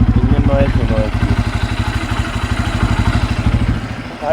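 A Bajaj Pulsar N250 motorcycle engine runs steadily close by with an even, rapid low thrum and a slight dip in level near the end.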